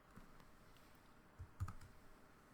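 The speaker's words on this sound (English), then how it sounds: "we have to type this following command" Quick, quiet keystrokes on a computer keyboard, a few soft clicks with a small burst near the end, typing out a terminal command in a still room.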